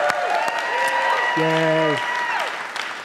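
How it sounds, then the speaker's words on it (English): A church congregation clapping for a few seconds, a broad wash of applause with a voice cheering over it. "if you're clapping this early"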